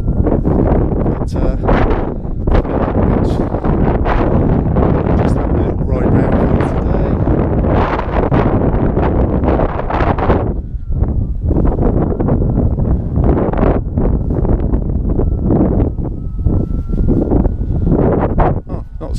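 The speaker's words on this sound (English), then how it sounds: "so windy this way." Strong wind buffets the microphone outdoors at a satellite earth station in Cornwall, a loud continuous roar with rumbling gusts that rise and fall throughout.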